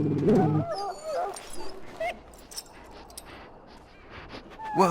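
A dog in the Dragon Age Origins video game whimpers and whines, a few high yelping cries at the start followed by softer whimpers and a final whine, fairly close over a quiet background.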